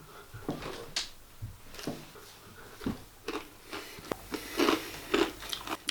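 Limited edition Garam Masala spiced snacks crunched close to the mic, a series of irregular crisp bites and chews, fairly quiet, with no talk over them.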